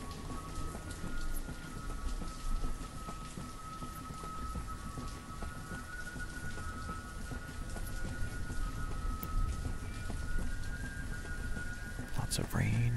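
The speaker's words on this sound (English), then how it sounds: "Lots of rain in the early autumn." Rain in the city-building game Banished falls as a steady, even patter across the whole stretch, with a faint sustained tone underneath and a brief sharp sound near the end.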